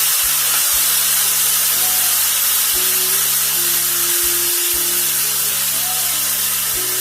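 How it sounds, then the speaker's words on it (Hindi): Chicken steak going into a hot grill pan gives a steady, continuous sizzle and hiss from start to finish, with low hum tones underneath and no voice. "मेरा जो ग्रिल पैन है वो हॉट हो चुका है और मैं अब इसके अंदर डालूंगी स्टेक"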